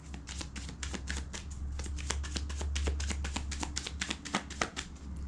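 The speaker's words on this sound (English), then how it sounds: "y'all can't see me shuffle" Rapid riffling and snapping of tarot cards being shuffled, a steady run of crisp clicks close by, with a low hum underneath.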